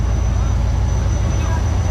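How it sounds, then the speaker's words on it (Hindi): Busy platform bustle at Hyderabad railway station in Pakistan, with a steady low rumble of idling locomotives and engines, diffuse crowd murmur and voices blending into a continuous loud wash. "ये है हैदराबाद रेलवे स्टेशन की गहमा गहमी।"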